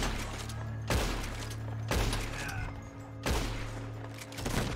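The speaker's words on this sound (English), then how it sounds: "So like we're having a shootout till morning or something." Repeated bursts of gunfire in a Red Dead Online shootout, three or four heavy volleys spaced about a second apart, each loud and close with a ringing tail over a low steady rumble.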